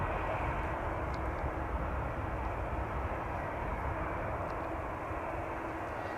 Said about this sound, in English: number 3 looks to be a NetJets BizJet